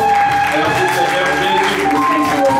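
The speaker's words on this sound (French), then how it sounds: "Voulons aussi les ovationner par une salle d'acclamation" A church congregation applauds in a steady, sustained wash of clapping, blended with tonal music or singing and voices throughout.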